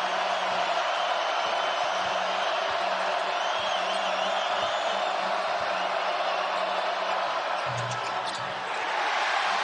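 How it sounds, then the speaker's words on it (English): Dense basketball crowd noise fills a college game at BYU's Marriott Center against Baylor, a steady loud roar of spectators with faint sneaker squeaks and bounces beneath it. "Now the crowd becoming a factor at the Marriott Center."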